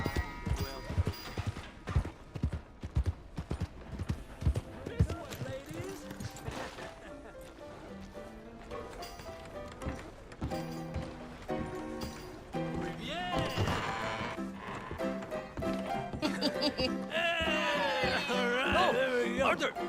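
Horse hooves clip-clop in a quick rhythm at the start of a Red Dead Redemption 2 game scene, then a voice speaks as music swells and grows louder toward the end.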